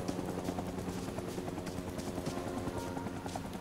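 Helicopter rotor thrum in Rising Storm 2 Vietnam, a steady, dense chopping drone that stays continuous and fairly loud, with scattered sharper in-game noises over it.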